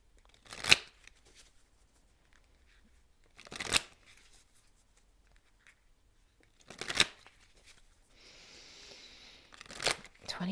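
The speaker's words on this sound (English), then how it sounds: "let's pull a card from Messages of Love Oracle cards as a takeaway here" Messages of Love oracle cards are shuffled by hand in a few separate bursts of quick riffling flutter, spaced several seconds apart and close, with a faint hiss between them and no talk.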